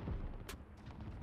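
A single sharp gunshot fired in the Modern Warfare video game, a loud broadband crack about halfway through the clip, set against steady game background noise with no other clear shots.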